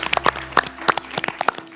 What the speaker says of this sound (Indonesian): Tepuk tangan dulu dong untuk finalis kita